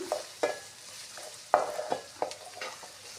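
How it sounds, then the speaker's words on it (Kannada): Onions frying in an oiled pan while being stirred, with sharp scraping strokes of a spatula over a light, steady sizzle at close range. "ಎಲ್ಲ ಉಳ್ಳಾಗಡ್ಡಿ ಹಾಕಿ ಚೆನ್ನಾಗಿ ಫ್ರೈ ಮಾಡಿಕೊಳ್ಳಿರಿ"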